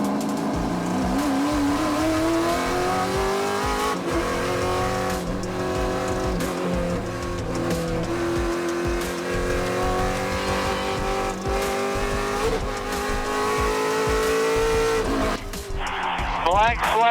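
A race car laps the track at Circuit of the Americas, its engine holding a loud, steady high whine with shifting pitch, occasional tire squeal and a driver's voice over the radio.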